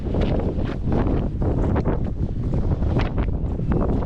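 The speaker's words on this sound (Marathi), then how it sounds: "कारण वाऱ्याचा जास्त आवाज येतो" Strong wind buffets the microphone in heavy, rumbling gusts, roaring and fluttering throughout with brief surges, at Amboli in the monsoon, with fog rolling in.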